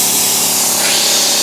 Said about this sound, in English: Obviously, I'm just using a regular drill.